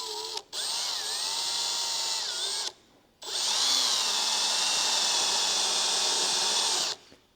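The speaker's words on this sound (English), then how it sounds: "This is a 3/16 drill bit. We're gonna just punch a hole in the center" A power drill with a 3/16 bit bores a pilot hole through the body panel of an NC Miata during a turbo kit install, running in a brief burst and then a longer steady whine, close and loud, with no talking.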